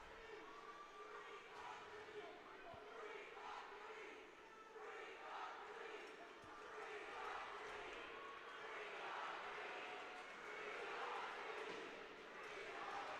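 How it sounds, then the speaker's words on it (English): Hockey fans of a minor-league team cheering inside an arena, a distant, steady rumble of crowd voices swelling and chanting in waves, faint and reverberant throughout. "I'm trying to figure out what the River Dragon fans are cheering here"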